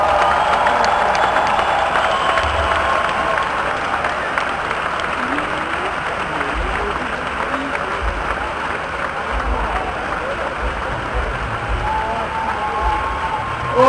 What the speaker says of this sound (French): Il mérite un tonnerre d'applaudissements